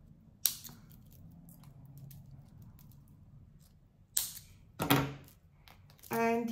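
Scissors snip through old fishing thread while beading a pearl purse, giving a few short, crisp cuts close by with soft handling noise in between.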